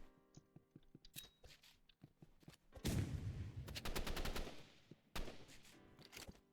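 Sniper and rifle gunfire in the online shooter game Rivals, sharp repeated reports in quick bursts with a dense volley in the middle, fairly loud and close, and no voices.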